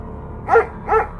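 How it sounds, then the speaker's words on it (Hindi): Two short barks from jungle dogs chasing someone, spaced about half a second apart at moderate distance, standing out alone against a quiet background. "तभी उसके पीछे से जंगल के कुत्ते पड़ जाते हैं"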